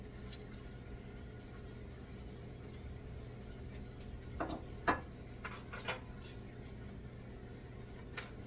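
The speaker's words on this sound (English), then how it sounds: "Listen to that sizzle." Quiet, steady sizzling of burger patties frying in a pan, with a few clinks and scrapes of a spatula against metal partway through.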